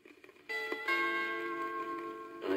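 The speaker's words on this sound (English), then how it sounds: "The doorbell rang." A doorbell rings on a 1983 children's book recording, a sustained, clear chime that rings out on its own and holds for about two seconds before trailing off.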